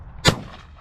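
A single sharp shotgun blast at crows and pigeons in the UK countryside, loud and close, with a short fading tail in open air and no voices.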